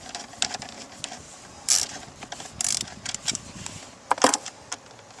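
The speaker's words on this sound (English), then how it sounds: "We're going to remove one Phillips screw on the left side at the bottom here." A Phillips screw is worked loose from the lower left of a Honda Pilot dash panel, giving small intermittent clicks and scrapes of the screwdriver against plastic, close and fairly quiet.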